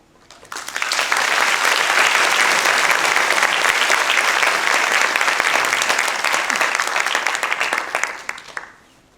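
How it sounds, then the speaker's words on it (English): A lecture audience applauds steadily for about eight seconds, welcoming a professor to the stage at a university talk; the clapping is full and continuous, swelling quickly and fading out at the end. "Please join me in a warm round of applause as we welcome Professor Brian Kobilka"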